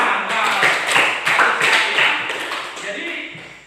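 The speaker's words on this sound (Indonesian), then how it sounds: "Oke, tepuk tangan." A classroom group claps in a quick, rhythmic patter of close hand claps that fades toward the end, with voices mixed in.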